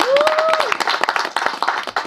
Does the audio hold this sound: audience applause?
yes